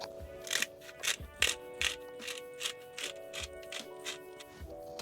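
A hand pepper grinder cranked over raw pork chops, a rhythmic series of ratcheting, gritty clicks repeating about twice a second, close and fairly quiet with no talk.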